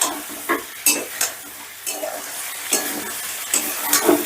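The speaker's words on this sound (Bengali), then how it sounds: "মিডিয়ামে রেখেই মশলাটাকে বেশ ভালো করে কষে নিতে হবে" Ginger, garlic, tomato and chili masala sautés over medium heat, with a steady sizzle broken by repeated scraping stirs that come in irregular bursts, close and fairly loud, no voices.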